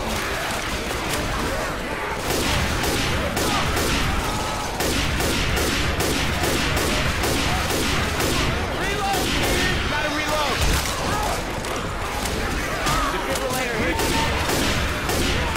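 Dense, continuous gunfire from the Left 4 Dead 2 video game, rapid overlapping shots and bursts throughout at steady loud level, with crowd-like noise mixed in.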